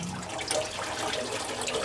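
Transmission fluid draining from the pan of an Allison automatic transmission on a dump truck, a steady splashing liquid trickle running continuously at close range with no talk.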